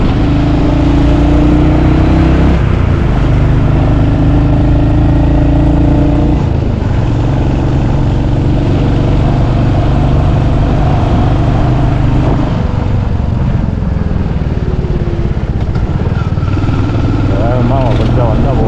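Vehicle climbing the winding Bannari to Thimbam mountain road, with a loud, continuous engine drone close by and shifting pitch as it changes speed through the bends.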